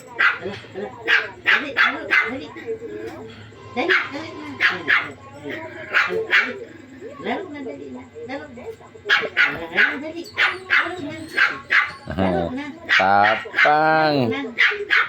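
Two pet dogs bark in sharp repeated bursts while playing, with yips and whimpers between barks and a person talking over the play.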